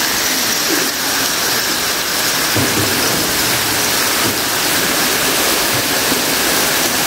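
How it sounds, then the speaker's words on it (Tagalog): A waterfall rushes inside an underground river cave, a loud, steady broadband roar of falling water that fills the space without letup, with no voices heard. "Wow, may parang mga falls ko dyan, eh."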